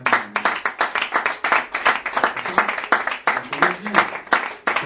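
A church congregation claps in a steady rhythmic beat during a Sunday worship service, loud and sustained, with voices mixed in among the hand claps.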